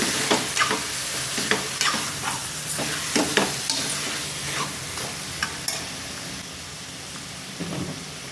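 Country chicken curry with turmeric is stirred in a pan, a spoon scraping and knocking in irregular strokes over a steady close sizzle of frying, with no voices.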